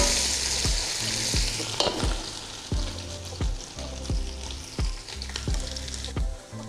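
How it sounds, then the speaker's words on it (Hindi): Chopped ginger fries with onions and fat in a pot for beef pulao, giving a steady close sizzle broken by regular sharp knocks of a spoon stirring against the pot. "और इसमें हम 2 टेबलस्पून अदरक डाल देंगे चॉप किया हुआ। इसे हम पका"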